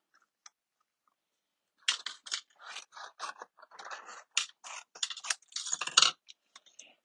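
Scissors snip a piece of card stock down to size for a mini die-cutting machine during card making, a run of close, crisp cuts and crunches in a quiet room with no talking.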